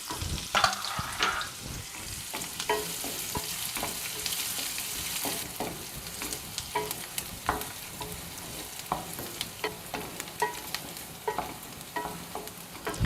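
Chopped large onion and green chilies fry and sizzle in a pan for a South Indian lemon rice dish, with steady crackling and frequent stirring scrapes, fairly quiet and close, no talking.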